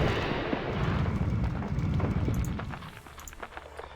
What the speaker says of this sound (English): drop the bomb